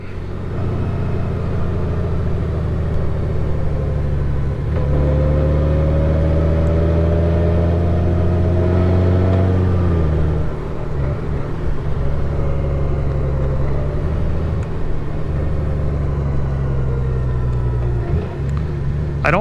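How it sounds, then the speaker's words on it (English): A 2023 Honda Gold Wing motorcycle engine rumbles steadily while riding, the pitch rising under acceleration and then dropping through smooth downshifts, loud and close throughout. "That downshifting is so nice."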